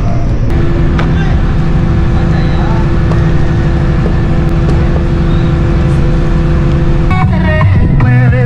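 A bus drives by on a city street, its engine droning loudly and steadily against traffic noise for several seconds before the sound shifts and fades as it passes.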